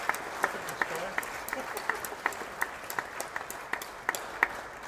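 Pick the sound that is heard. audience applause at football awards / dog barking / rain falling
audience applause at football awards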